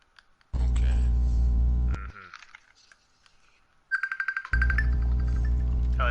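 A mobile phone rings nearby with a loud, sustained buzzing ringtone tone, a pause with a faint warbling chime, then a quick run of pulsed beeps before the loud tone resumes, no one talking over it.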